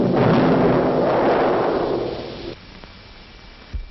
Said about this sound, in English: 4 pounds of dynamite in this charge.